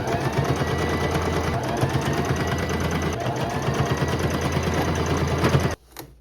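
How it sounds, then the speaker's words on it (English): Close and loud, a sewing machine top-stitches the hem of a bead-embroidered handbag in one continuous run of fast, even rattling stitches that stops abruptly near the end, with no speech. "I'm going to roll it down and then I'm going to do a top stitch all the way across on both sides."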